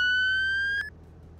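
A police siren in its reel mode in a video game holds a steady, piercing wail at full strength. It cuts off abruptly just before the end and leaves a faint low background hum.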